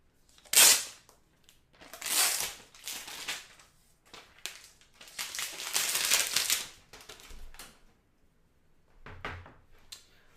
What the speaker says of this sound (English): Let's take the plastic off really quick.